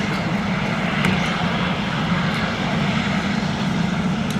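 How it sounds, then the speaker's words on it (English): Steady, loud mechanical drone of a Westland Sea King HAR3 helicopter with its rotor turning, a dense continuous engine and rotor roar with a strong low hum, close by and without any voices. "Now look, the rotor is turning."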